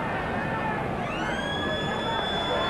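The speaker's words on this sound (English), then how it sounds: "the siren sounds." A rugby league match siren wails at the end of a 1991 Canberra versus Manly game, a rising tone that swells over the crowd noise while a commentator talks.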